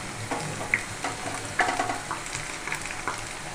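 Onions browning in hot oil for a dal tadka, with mustard seeds and whole round red chilies just added, give a steady close sizzle with faint crackles and a few sharper pops, without speech.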